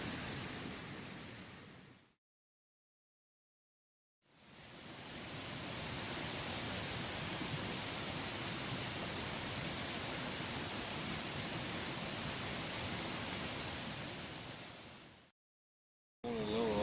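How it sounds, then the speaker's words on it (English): A steady, broad rush of a river flowing at night near a campsite in Shenandoah National Park, constant and even, cut by two brief stretches of silence. "Falling asleep to the sound of the river tonight."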